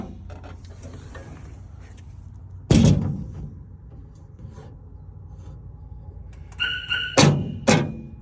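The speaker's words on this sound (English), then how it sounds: "you have power door locks" A few sharp mechanical clunks and whirs from power door lock actuators on a 1968 Chevy C10, one loud thump early on, then a quick burst of actuator buzzing and two more clunks near the end.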